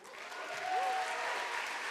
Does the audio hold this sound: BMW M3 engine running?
no